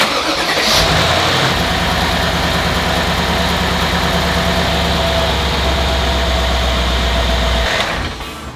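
Mercedes GL450 engine cranks and catches, then settles into a steady, loud, close idle that runs for several seconds before cutting out; no talking.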